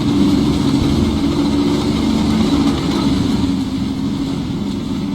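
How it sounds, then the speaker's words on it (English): Vehicle motors drone steadily in the Combat Mission Final Blitzkrieg war game, a loud, low, continuous engine rumble with no talk over it. "I wonder if the motor sounds aren't too loud and drown out my voice."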